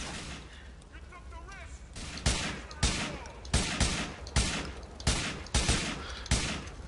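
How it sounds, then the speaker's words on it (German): Rapid bursts of gunfire shooting at a car in the video game GTA IV, about ten sharp loud shots in an uneven steady rhythm, close and dominant over a low background. "Also muss man da ein bisschen länger raufballern als bei GTA Vice City oder GTA 3."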